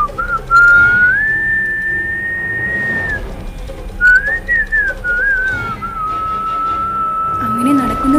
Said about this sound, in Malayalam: ഒരു ചൂളമടിച്ചുകൊണ്ട് മുന്നോട്ട് നടന്നു